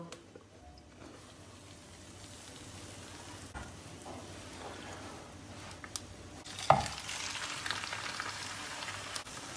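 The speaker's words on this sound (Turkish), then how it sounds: "Yumurtalı tarafını da ortalama bir dakika bir kızartacağım." Potatoes and egg sizzle and crackle softly in a hot pan, a steady frying hiss with an occasional sharper clink partway through.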